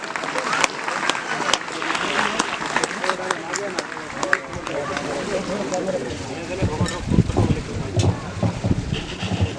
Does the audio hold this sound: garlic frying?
no